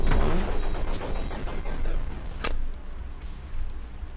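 Rapid bursts of video game explosions and gunfire in Diluvian Ultra, loud and continuous, with a sharp blast standing out partway through.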